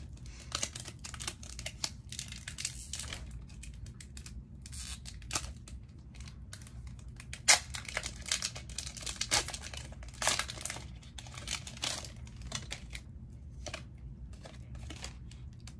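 A Pokemon Scarlet & Violet 151 booster pack wrapper is torn and crumpled open by hand, with dense, crinkly foil rustling and tearing in close, uneven bursts throughout.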